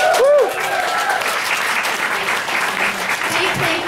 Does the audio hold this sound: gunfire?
no